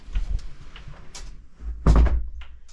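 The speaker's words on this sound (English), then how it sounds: "Just shut that door." An old cottage door is pushed shut with a single solid thump near the middle, preceded by faint creaks and small knocks, close and fairly loud, with no talking.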